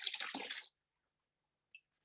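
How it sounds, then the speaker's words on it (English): Water pours out of a hydro dip container in a short, close splashing gush that ends abruptly, followed by a single faint drip. "so I'm going to dump the water out."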